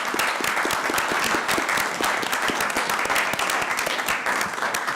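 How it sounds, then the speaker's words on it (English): An audience at a city council meeting applauds steadily for several seconds, many hands clapping in a dense, even burst with no voices standing out. "let's give them a round of applause"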